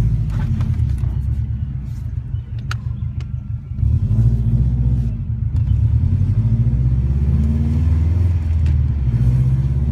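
A 2005 Subaru Impreza WRX STi, not yet tuned, driving down a street: a loud, steady low engine rumble that surges a little midway and continues throughout, with no talk.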